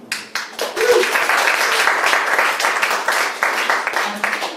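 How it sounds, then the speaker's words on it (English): A comedy club audience breaks into loud, dense applause that builds quickly and holds steady for several seconds, with a few scattered whoops mixed into the clapping. "clap it up if you've ever dated someone better looking than you"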